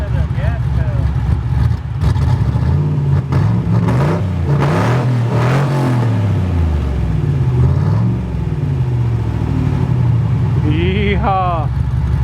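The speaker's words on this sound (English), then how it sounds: "Give it some gas, rev it up." A Jeep Comanche engine revs repeatedly, loud rumbling blips rising and falling close by, with a voice briefly heard over it toward the end.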